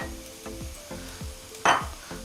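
Onion and cumin fry in a pan with a steady sizzle, while a spoon scrapes and stirs in regular strokes and a brief louder burst of crackle rises near the end.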